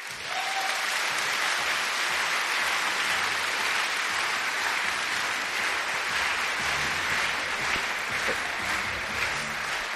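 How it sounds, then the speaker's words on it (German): A university science event crowd greets the Eschaton group on stage with loud, sustained applause, a thick unbroken roar of many hands lasting throughout. "Begrüßt mit donnerndem Applaus die Eschaton-Gruppe"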